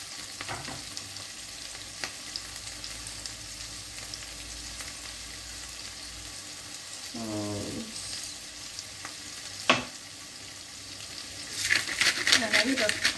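Chicken pieces sizzle and fry steadily in a pan throughout, with a brief rattle near the middle, a sharp clack, and louder spattering toward the end.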